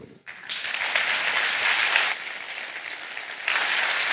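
Audience applause at a live French debate battle, dense clapping starting abruptly, dipping midway and swelling again near the end, with no talk over it.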